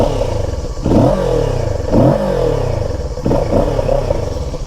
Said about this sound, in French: je vous fais écouter le bruit de la ligne d'échappement